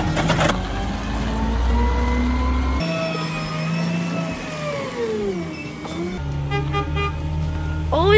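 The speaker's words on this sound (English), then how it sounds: "Beep your horn before you back up." A garbage truck horn honks in a steady sustained tone, cutting out and returning several times over a rumbling engine.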